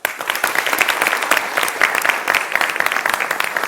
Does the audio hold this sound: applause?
yes